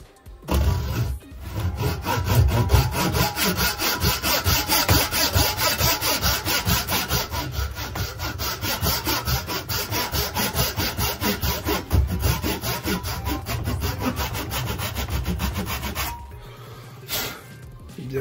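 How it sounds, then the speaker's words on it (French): A Japanese pull saw cuts through rosewood in a fast, steady back-and-forth rasp, close and loud, with a brief pause near the start and a slowing at the end. "Je prends une scie japonaise, ce sera plus facile."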